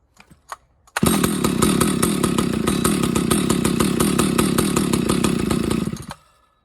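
A rebuilt Husqvarna 1100CD chainsaw fires after a few faint pulls and roars loud and steady for about five seconds, then cuts out abruptly.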